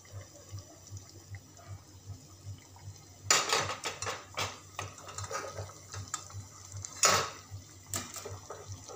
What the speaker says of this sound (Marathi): तर छान असा मस्त तडका सोडलेला आहे।